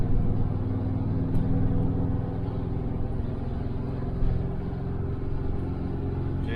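A 1968 Chevelle Nomad, newly back on the road, held in gear, its engine giving a steady low rumble with a constant drone from inside the car and no talking.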